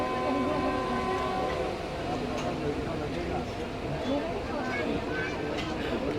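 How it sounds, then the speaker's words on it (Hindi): Musa Pak Express railcar train pulling out of Okara station, a steady rumbling rattle of wheels and carriage from inside with faint tonal hums, continuous and moderately loud. "फाइनली हमारी ट्रेन निकल रही है ओकाड़ा से"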